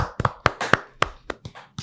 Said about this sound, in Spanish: Vamos a recibir con un fuerte aplauso, que se escuche